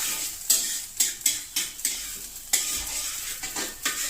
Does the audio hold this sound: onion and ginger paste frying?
yes